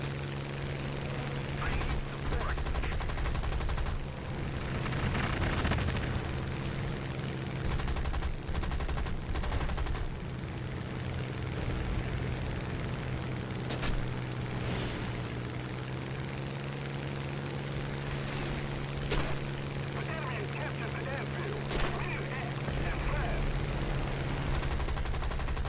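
Bursts of machine-gun and cannon fire in the aircraft combat game War Thunder, rapid crackling volleys over a steady engine drone, with a person talking at times.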